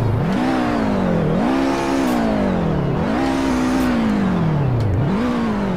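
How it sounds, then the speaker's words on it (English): An Audi car engine revs up and drops back repeatedly, three rising and falling surges, loud and close with no talk. "Let's hear some revs."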